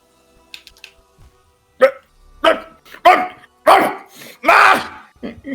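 A person imitates a dog with a run of short, loud, coarse barking yelps, five or six bursts in quick succession after a brief quiet start, close to the listener.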